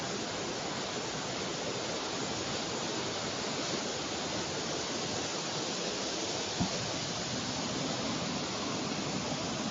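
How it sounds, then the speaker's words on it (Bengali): Water being poured over a character in a Bangla cartoon: a dense, continuous rushing splash like heavy rain or a waterfall, loud and steady for the whole stretch with no voices. "তুমি আমার গায়ে পানি ঢেলে দিলে?"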